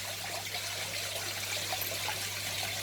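Water trickles and pours steadily into a small container from a turkey baster, a continuous close, soft splashing stream with a faint low hum underneath and no talking.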